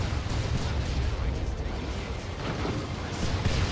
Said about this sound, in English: Mortar shell. A decent hit.